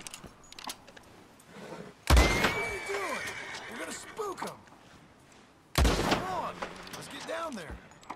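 Gunfire in the Western video game Red Dead Redemption 2 breaks out in two sharp bursts of shots mixed with clattering impacts, while voices talk over and between the volleys.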